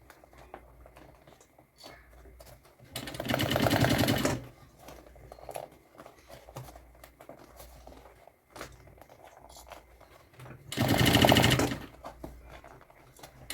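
A sewing machine stitches plastic lining to fabric in two loud, close bursts of rapid buzzing chatter, each about a second long, separated by quieter handling rustles.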